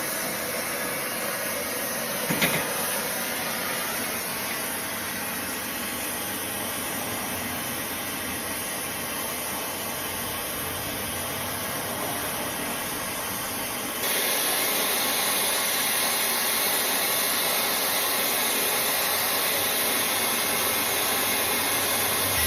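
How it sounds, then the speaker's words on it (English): A torch brazing a copper refrigerant line onto an evaporator coil during an HVAC installation roars with a steady, broad hiss, one brief clank partway through, and the flame noise grows louder near the end, with no talking. "what I'm getting ready to do now is go ahead and braze this in place right now"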